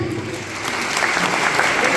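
Steady audience applause fills a Naat committee recitation competition hall in Bijapur, Karnataka, a dense continuous clatter of many hands, fairly loud and sustained throughout.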